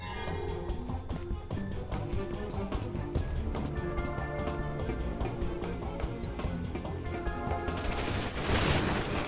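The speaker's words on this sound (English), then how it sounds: "People are shooting at me." Gunfire in the video game Resident Evil 6, dense rattling bursts of shots layered over busy game music and effects, continuous and crowded throughout, swelling into a louder crash near the end.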